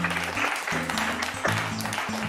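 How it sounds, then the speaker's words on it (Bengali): An audience at a family game show claps in a steady burst of applause, with stepped musical tones playing underneath. "আরে হাততালি হয়ে যাক"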